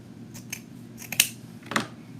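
Several sharp snips of scissors cut paper for a fall wreath, in a few separate, crisp cuts that sound close and fairly quiet, with no one talking.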